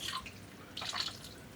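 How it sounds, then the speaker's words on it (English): Water drips and splatters from wet yarn skeins being squeezed out by hand after dyeing, two brief close bursts of dribbling separated by a quieter moment. "I'll just squeeze out the water a little bit, mostly to not make a mess."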